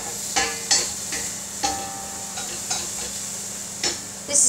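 Onions and garlic fry in oil in a frying pan, a soft steady sizzle broken by repeated scraping stirs and clinks of a utensil, close by with no talking.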